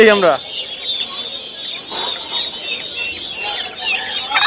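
Chickens clucking at a poultry market in Bangladesh, repeated close cackles and calls running throughout alongside people talking.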